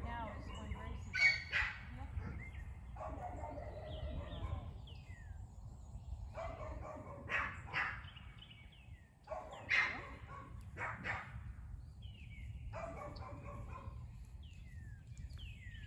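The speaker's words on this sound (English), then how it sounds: "His main distraction right now is when Gracie barks." A dog barks repeatedly in short bursts during leash training, moderately distant, while a handler talks and gives commands over it.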